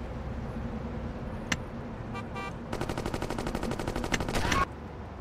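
Rifle gunfire in the video game Gangsters 2: Vendetta, a single sharp shot followed by a brief burst and then a sustained rapid volley of shots lasting about two seconds, moderately loud against a quiet game background.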